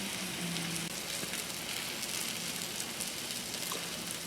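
A flat iron steak sizzles on a hot salt block grill, a steady, dense crackling hiss that holds at even loudness throughout, with a faint low hum beneath.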